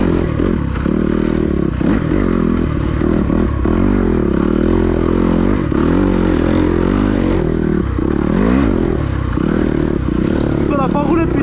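A motocross dirt bike rides through an old sand quarry. The engine is loud and close, revving up and down constantly as it works through the sand, with clattering and scraping mixed in.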